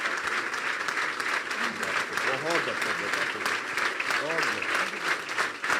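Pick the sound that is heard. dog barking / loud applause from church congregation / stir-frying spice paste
loud applause from church congregation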